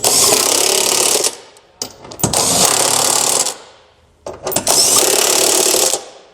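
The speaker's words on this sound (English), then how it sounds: "We can now tighten down all of our hardware using a 19mm socket." A power tool with a 19mm socket tightens the hardware on a Curt trailer hitch receiver being installed on a 2019 Infiniti. It runs in three loud, rattling, hammering bursts, with short pauses between them, close up.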